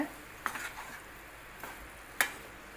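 Potatoes coated in masala are stirred in a pan for a Tamil potato poriyal, giving a few soft, scattered spatula scrapes against a quiet background.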